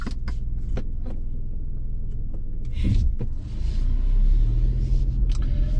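A 2022 Hyundai Casper 1.0 Modern with about 17,800 km, driving with a low steady interior engine rumble, a few clicks and knocks, and a swell of road noise as it picks up speed.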